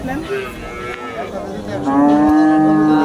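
At a crowded cattle market, Friesian cows moo close by, a rough call first and then a longer, steady low that rises above the market chatter.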